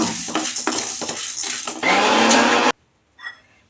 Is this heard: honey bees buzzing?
no